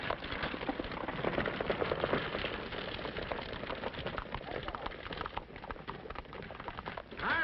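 Horse hooves clip-clop through a 1939 western film soundtrack, a steady busy patter of hoofbeats blended into dense, continuous background sound.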